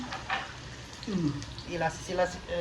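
Chopped onions sizzle in a hot pan as a goat-meat curry (sagoli mangso) is started, a steady close frying hiss with a few brief stirring scrapes and a short murmured voice-like sound partway through.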